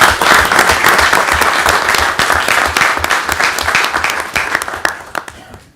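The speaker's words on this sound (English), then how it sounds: "a round of applause for Trustee Sadoo." A round of applause at a Village of Villa Park board meeting, a small roomful of people clapping loudly and steadily for several seconds before it tapers off.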